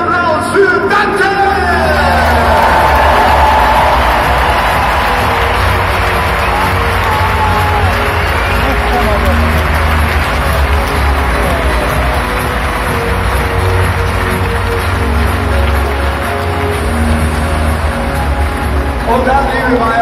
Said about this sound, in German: Bitte einen speziellen Applaus für Dante!